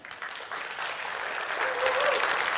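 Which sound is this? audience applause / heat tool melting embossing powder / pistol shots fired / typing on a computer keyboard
audience applause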